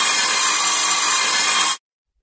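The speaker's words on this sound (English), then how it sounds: "noisy circular saw cutting through 1-inch oak board" A circular saw rips through a 1-inch oak board, a loud, steady, harsh whine that runs for under two seconds and then cuts off abruptly.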